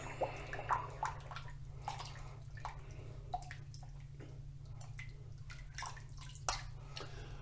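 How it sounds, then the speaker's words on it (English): A small Tiki shaving brush whips Miami Nights shaving soap into lather in a bowl, giving faint, close, wet swishing and tapping sounds against a low steady hum. "I'm going to go ahead and start up a lather with my little Tiki brush here"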